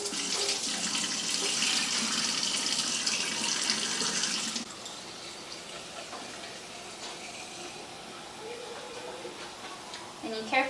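Tap water runs steadily into a sink over dried beans being rinsed, a bright hissing stream for a few seconds that then cuts off, leaving quiet clinks and handling sounds with a voice talking.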